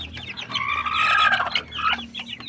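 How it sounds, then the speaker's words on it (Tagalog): A rooster and Rhode Island Red chickens on a backyard farm cluck and call loudly at close range, with a drawn-out crowing note in the middle and no speech. "Yan ang tandang natin."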